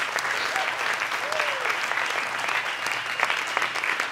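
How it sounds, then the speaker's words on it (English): A congregation applauds the music team at a Sunday morning church service, steady clapping filling the room for several seconds while someone speaks over it. "Please give our music people another round of applause."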